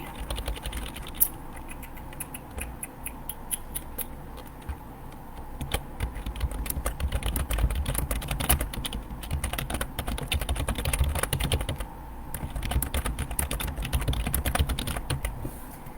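Fingers type a caption on a computer keyboard, close and clicky, in irregular runs of rapid keystrokes broken by brief pauses, with no voices.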